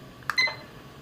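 Kitchen timer being started, two quick electronic beeps close by in a quiet kitchen while sausage browns for a stew, with no talk.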